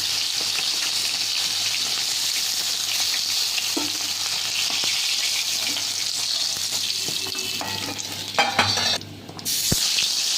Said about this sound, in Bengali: পরবর্তী যে মাছগুলো আছে সেগুলো এখন ভেজে নিচ্ছি